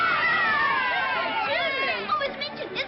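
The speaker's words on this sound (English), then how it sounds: "Do you hear the cheering?" A crowd cheers and shouts in a 1939 film scene from The Little Princess, many voices calling out together in an excited, sustained hubbub that grows more scattered toward the end.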